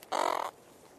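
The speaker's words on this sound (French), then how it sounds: "C'est une femelle, une bonne grosse femelle, avec une voix rauque" A large female booby, caught at a seabird colony, gives one hoarse, rasping call lasting about half a second, loud and close, with no voices around it.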